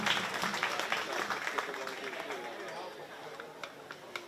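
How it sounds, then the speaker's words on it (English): Audience at a county fair 4-H swine show applauds young exhibitors, scattered clapping mixed with crowd chatter and talk, loudest early and thinning toward the end. "Give them a great big round of applause as they go back."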